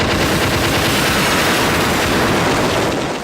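Continuous laser fire from a TOH CD-i adventure game, a loud, dense, unbroken stream of rapid zapping shots that fills the whole moment.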